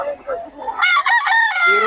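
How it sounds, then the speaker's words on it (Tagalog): A fighting-bloodline rooster crows loudly and close in one long call, and other chickens cluck briefly just before it. "Yes, Tatay Tony, maraming manok lagi yan"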